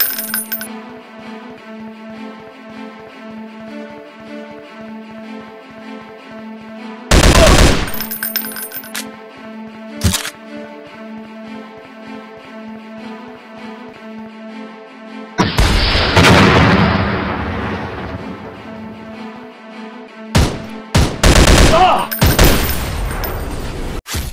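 Gunfire in the Commando Action Shooting mobile game comes as loud bursts of automatic fire and sharp single shots, heaviest in the middle and near the end, over a quieter tonal game soundtrack.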